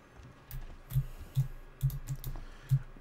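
Keyboard typing inside the video game Alien Isolation: a sparse run of soft, muffled key clicks, about seven irregular taps over a low hum, close and fairly quiet with no talk.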